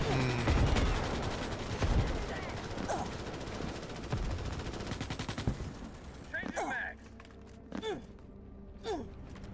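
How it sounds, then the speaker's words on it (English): Dense, rapid automatic gunfire in the video game Starship Troopers: Extermination, a sustained loud barrage for several seconds that then thins out into scattered bursts, with a voice speaking in the later quieter part. "So many bullets"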